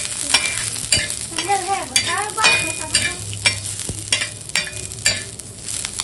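Chana dal is roasted in a new pan for chutney, with repeated scraping and stirring strokes over a light frying hiss, all close and busy.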